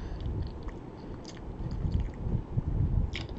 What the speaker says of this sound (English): Yeah, you really gotta chew on this for a minute.